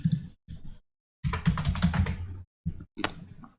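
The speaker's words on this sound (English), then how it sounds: "then you're going to type your text" Someone types on a computer keyboard in short bursts of clicking keystrokes with brief pauses between them, close and clear.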